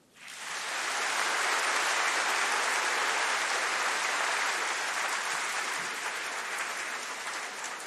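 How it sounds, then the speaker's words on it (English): A large audience at a university degree ceremony breaks into sustained applause, swelling within the first second into a dense, loud wash of clapping that holds steadily for several seconds and tapers only slightly. "please can I ask everyone to give a round of applause in memory of Eliza"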